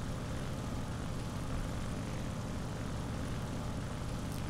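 A J2M3 Raiden fighter in War Thunder drones steadily as it climbs, a dense, even propeller-engine roar held at constant loudness throughout, with no voices.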